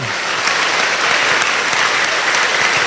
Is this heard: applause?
yes